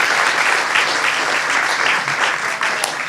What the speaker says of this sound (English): Can we give a round of applause to Randall Spackman and Thornbury Farm?